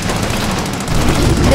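Gunfire in the Xbox One game Command and Conquer Red Alert 3, heard as a loud, dense, continuous battle rumble of rapid shots and explosions that swells toward the end.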